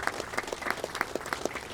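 An audience applauds for a visitor center team at an unveiling event: a brief, fairly faint spell of steady group clapping.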